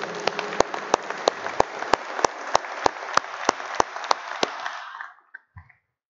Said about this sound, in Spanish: Un aplauso, por favor, para Dios esta noche.